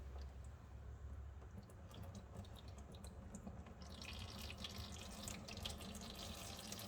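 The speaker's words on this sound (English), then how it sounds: "We're just gonna go ahead and drain this oil and put new oil in." Engine oil draining from a Volkswagen Thing during an oil change, a steady faint trickle and patter of liquid into a pan, growing brighter and splashier partway through, with no talking.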